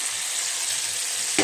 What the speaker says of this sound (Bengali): মশলাটা আমার কষানো হয়ে গেছে, এখন আমি দইটা দিয়ে দিচ্ছি।